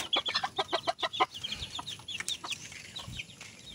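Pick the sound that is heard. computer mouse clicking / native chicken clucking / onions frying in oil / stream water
native chicken clucking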